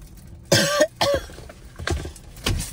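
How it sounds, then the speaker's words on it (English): A person indoors lets out a couple of sharp, close coughs, followed after a pause by softer throat-clearing bursts. "Did you cough?"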